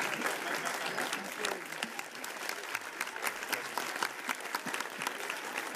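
At a club concert, the audience claps loudly and fairly close, with sharp individual claps standing out from the thick crowd applause. Some cheering and voices can be heard in the mix.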